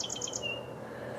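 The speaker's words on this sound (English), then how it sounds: "I don't know if you can hear the birds" Birds chirp outdoors in Whistler, a few quick high tweets and a thin whistle near the start over a soft, steady outdoor background, fairly faint and alone.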